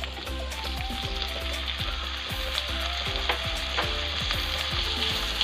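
Green chili and tomato fry in hot oil for a spicy Kerala beef curry, a steady dense sizzle with repeated scraping stirs of a spoon in the pan, close and continuous with no talking.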